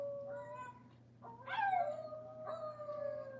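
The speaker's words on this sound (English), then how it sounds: "SHIB Inu crying or howling at the moon" A Shiba Inu howls in long, wavering, rising and falling cries, close and fairly clear, with a short break between howls over a low steady hum.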